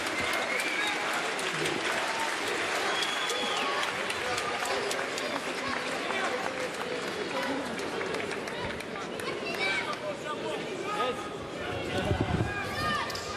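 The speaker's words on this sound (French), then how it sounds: "Et les applaudissements bien mérités" Sustained applause from a boxing-match audience after a bout ends, filling the hall steadily and loudly, with crowd voices and shouts mixed in throughout.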